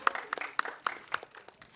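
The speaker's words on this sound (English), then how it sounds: "Can we have a huge round of applause for Bobby sir?" Scattered, fairly faint hand claps from a press-meet audience for Bobby Deol, a few sharp separate claps spaced out rather than a full ovation.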